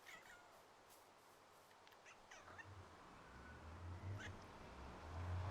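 A pet cat gives short chirping meows in a quiet room, faint and scattered across a few seconds, with a low rumble building underneath toward the end.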